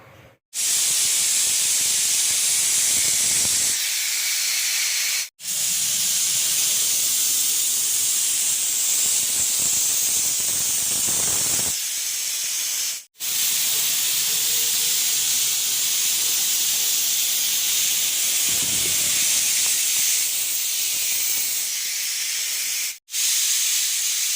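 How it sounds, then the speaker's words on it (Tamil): A pressure cooker on a home stove cooking rice and lentils with turmeric, salt and tamarind lets off loud, continuous whistling steam hiss in long bursts, broken by brief silent gaps, with no talking. "மூடி வச்சாச்சு ஒரு அஞ்சு விசில்"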